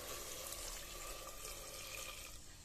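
Water pours steadily into a pan of eggplant for a curry, a continuous splashing gush that thins slightly toward the end, close by with no talking.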